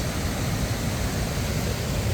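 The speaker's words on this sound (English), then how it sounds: "See how fast that water is." Fast-flowing stream water rushing steadily in the Scottish wilderness, a dense, continuous broadband roar close to the microphone with no pauses and no voices.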